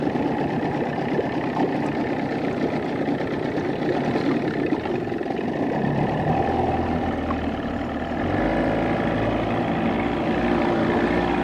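A 1990 Johnson 20hp outboard motor fitted with a 13 pitch prop runs steadily at speed on a boat, its loud droning engine accompanied by rushing wind and water, with the pitch shifting as it accelerates toward the end.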